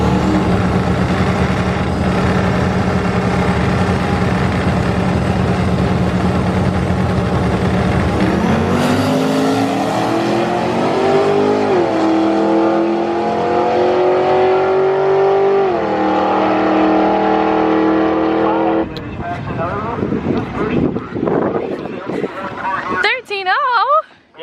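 A Ram pickup truck launches hard down a drag strip; its loud engine roars steadily and rises in pitch through upshifts, with a sharp shift change midway and a rougher, fading roar at the end.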